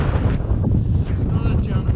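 Strong wind on the Y Gribin ridge, buffeting the microphone in loud, gusty low rumbles across the whole brief stretch.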